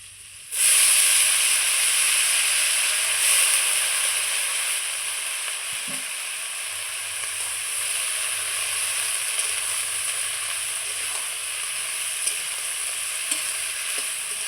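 Helencha greens tossed into hot oil with fried potato and drumstick, a loud, close, steady hiss of frying that swells at first then holds evenly, with a soft thump of stirring partway through and no voices.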